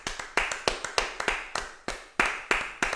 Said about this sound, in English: Let's do a minute's applause for him.